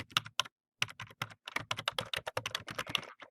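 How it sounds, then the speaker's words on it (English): Rapid clicking keystrokes on a computer keyboard come in quick bursts with a brief pause near the start, close and crisp, with no voices over them. "Now we're going to type beside that, in all caps, the title of your report."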